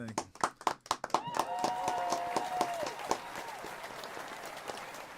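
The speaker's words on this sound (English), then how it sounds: "Give him a hand clap, Tony." Applause for a comedian starts as a few loud, separate claps up close and swells into a fuller crowd of clapping hands, with voices and a cheer mixed in.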